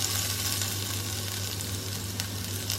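Garlic frying in hot oil gives a steady, loud, close sizzle with a continuous crackling hiss throughout, and no voices.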